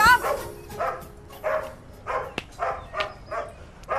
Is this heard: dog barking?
yes